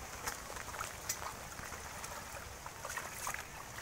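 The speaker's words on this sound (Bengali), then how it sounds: "এই যে অনেক জোরে যাচ্ছে পানি" Fast-flowing water rushes steadily past as the level drops, a soft, continuous broadband wash with a few small splashes and ticks scattered through it. No voices.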